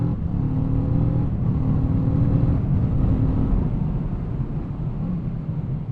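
A Kawasaki Z650 motorcycle engine pulls hard and loud through the gears, its tone rising and briefly dipping at each shift before climbing again.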